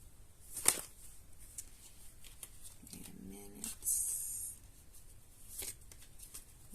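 Quiet, intermittent tarot card shuffling close by, a few soft riffles and taps spread out with gaps of near silence.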